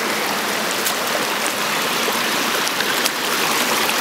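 A stream of water flows steadily with a dense, even rush and no pauses, loud and close, with no voices.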